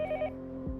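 A telephone rings in the video game Yomawari: Night Alone 2, giving short repeated electronic trills in quick bursts at the start. A low rumbling game ambience continues underneath once the ringing stops.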